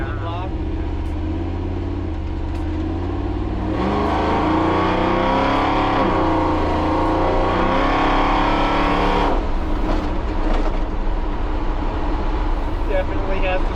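A big block truck engine revs hard: a steady rumble climbs into a loud, roaring rev that holds for several seconds, then drops back to a lower growl, all close by.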